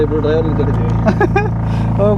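Motorboat engine on a river ride through mangrove forest near Kundapura, a steady low drone running throughout beneath continuous close male conversation.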